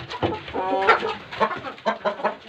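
Several short clucks and squawks from a rooster, close by, coming in bursts with brief pauses.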